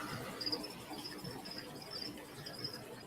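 Crickets chirp steadily in short, high, repeated trills over a soft, constant background hiss, fairly faint and continuous throughout.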